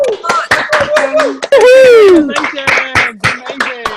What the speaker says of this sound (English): let's give Kim a big applause